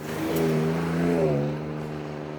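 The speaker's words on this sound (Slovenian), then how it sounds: "namreč ta motor tudi močno zarohni" A 2023 Ford Ranger Raptor engine roars up close, its revs climbing and then falling back in a single loud, throaty surge with no voices.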